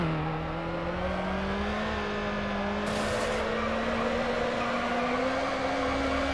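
A tuned street car in Need for Speed Underground revs hard, its engine pitch rising steadily. There is a quick gear shift partway through before the loud drone climbs again.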